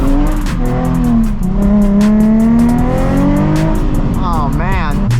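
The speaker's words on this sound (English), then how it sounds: "Do a little burnout" A Nissan 350z HR does a burnout on the road, its engine droning loudly up close as the pitch rises and falls, with tire noise and a voice talking over it.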